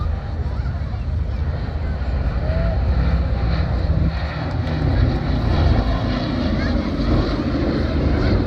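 A large warbird aeroplane flies at Old Buckenham Airshow, its engine a loud, steady rumbling drone that swells slightly as it passes, with a commentator speaking over it throughout.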